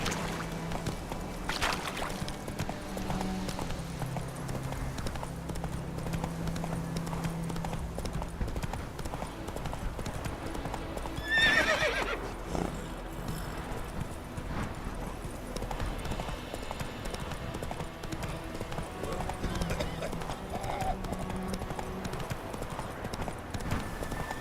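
Roach, a horse in the video game Witcher 3, galloping with rhythmic clip-clopping hooves over a low background bed, the hoofbeats continuing steadily for the whole stretch with a brief louder burst midway.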